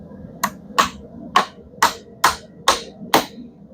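Seven sharp hammer blows drive big nails into wood at an even, unhurried pace, each strike loud and close against a quiet background.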